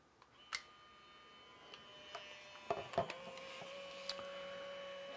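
A Fujifilm Instax Mini 9 instant camera pushing out a freshly printed photo: a faint whirring motor with small clicks and ticks, quiet and close, with no talking.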